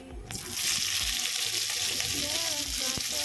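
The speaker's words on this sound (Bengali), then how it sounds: "দিয়ে দেবো গোটা গরম মশলা ফোড়নে, এলাচ, লবঙ্গ, দারচিনি, আর দিয়ে দিলাম হাফ চা চামচের মতো জিরা" Whole cardamom, cloves, cinnamon and cumin seeds hit hot oil for a Bhetki fish curry, and a loud, close, continuous sizzle bursts up and holds, with a faint voice briefly audible underneath.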